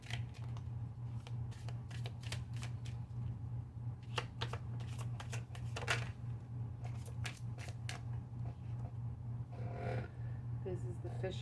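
A deck of oracle cards shuffled by hand, bursts of quick papery riffling and flicking at close range, recurring over a steady low background hum.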